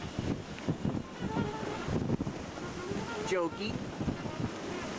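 Steady wind roaring over the microphone and waves washing around a sailboat in the British Virgin Islands, continuous and loud, with people talking and calling out over the noise.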